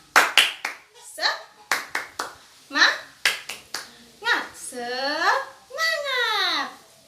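A class of grade-six schoolchildren performs a rhythmic spirit clap, sharp clustered bursts of hand claps in a patterned beat, followed by the children shouting and chanting together in rising, drawn-out voices.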